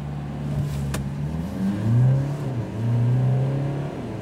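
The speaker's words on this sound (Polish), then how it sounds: "Brzydko pracuje skrzynia przy tej zmianie przełożeń." A Mercedes E 300de diesel accelerates hard, the engine note rising in steady sweeps with rough-sounding gear changes between them, loud and close with no talking.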